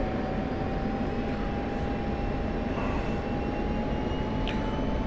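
An F-16 Viper jet in the DCS flight simulator flies a circuit, giving a steady, loud engine roar with a faint tonal whine that holds throughout with no talk.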